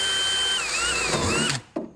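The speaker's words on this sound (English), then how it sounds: "And this one's gonna be kind of hard to drill" A power drill whines steadily as it bores into a go-kart body for about a second and a half, then stops, followed by a brief clunk; close and loud, no talking.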